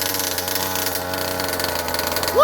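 A Rovan Baja 5B 1/5 scale RC car's small gas engine runs continuously during a heat cycle, a buzzy, raspy close idle that briefly rises in pitch at the end.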